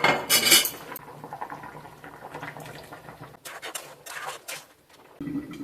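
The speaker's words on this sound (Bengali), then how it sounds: "এবার আমি ঢাকনাটা আবার খুলে নিচ্ছি।" A metal lid clatters loudly off a cooking pot of simmering milk-based vegetable shukto, followed by softer scattered clinks of cookware.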